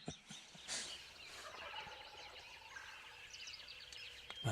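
A wild turkey gobbler on a ridge gobbles a few times, distant and faint, with no one talking.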